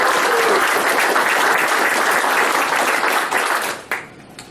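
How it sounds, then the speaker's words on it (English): Audience applause fills a presentation room, a steady dense clapping from many hands that holds for about four seconds, then thins out and tapers into a few scattered claps. "I applaud you, Grant, for doing that."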